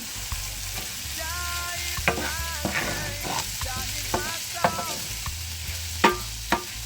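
Vegetables for shepherd's pie sautéing in a pan, a continuous close sizzle with periodic spoon scrapes and knocks against the pan as they're stirred, no voices.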